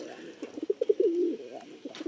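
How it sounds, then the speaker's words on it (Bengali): A male Andhra pigeon coos softly nearby, a short run of pulsing low notes rolling into a longer throaty coo, with faint background noise. "আপনারা দেখুন বন্ধুরা, এই ওভারঅল নর পায়রাটা ছাড়লাম"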